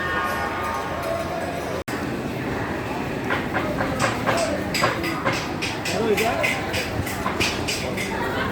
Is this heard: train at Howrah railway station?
yes